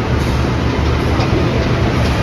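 A train rumbles steadily close by as it is shunted backwards, pushed by a CC-03 locomotive, with a continuous low roar and faint rattling of wagons, no voices.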